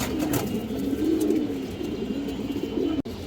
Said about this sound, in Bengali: একজোড়া ছাপচিলা কবুতর আছে মাশাআল্লাহ